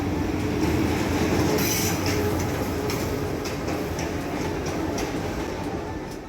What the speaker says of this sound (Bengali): আমি শুনতে পাচ্ছি আমার ট্রেন আসার হুইসেল